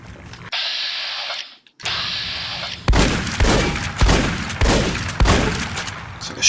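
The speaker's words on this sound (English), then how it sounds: "It's like a shooting gallery." Gunfire from the video game Fallout: New Vegas, Old World Blues add-on: a steady tone, then a string of loud close shots and booming impacts in an uneven rapid rhythm.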